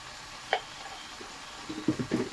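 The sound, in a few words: jute and other leafy greens being stirred while frying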